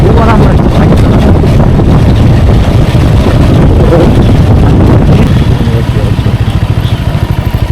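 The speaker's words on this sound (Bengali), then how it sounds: "বাইক চালাতে এত আরাম লাগছে রাস্তা, সে বলার মতো না।" A motorcycle rides along a road, its engine droning steadily and close while heavy wind buffets the microphone throughout, with no clear speech.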